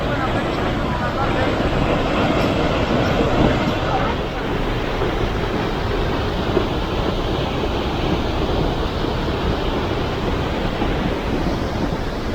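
Rushing waterfalls at Edessa in Macedonia make a loud, constant roar of falling water that fills the whole scene without letup, steady and close.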